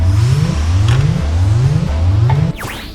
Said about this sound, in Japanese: 急いでエンジンポンプを動かします